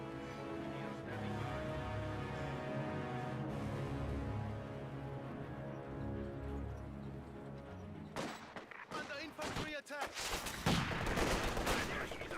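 Rapid gunfire and bursts from guards in the video game Company of Heroes 2, a dense fusillade layered over a steady game soundscape, growing sharper and more chaotic in the final seconds.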